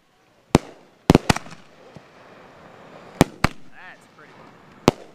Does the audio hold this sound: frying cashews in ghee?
no